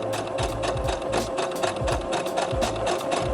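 A sewing machine stitches a fabric seam over pins, its needle pounding in a fast, steady rhythm with slight pulsing in speed, heard close and alone without talking.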